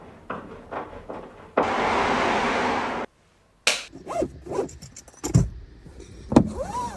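Car interior while driving to a hardware store, with a steady broad rumble and rush of road noise, a brief loud burst like a power window or door, then scattered clunks, taps and rustles close by.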